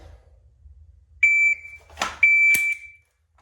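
A shot timer gives two short electronic beeps during dry-fire practice with an LCR22 in a holster, with sharp clicks and knocks of handling between and after them.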